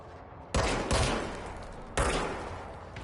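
Gunfire in the action game Control: two loud bursts of shots, the first around half a second in with a quick follow-up, the second near two seconds, over a steady game ambience with no talk.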